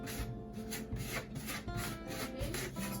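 A scraper rasps crumbling grout out of tile joints in quick, repeated strokes, a gritty rubbing texture that comes in close, rhythmic bursts at moderate volume.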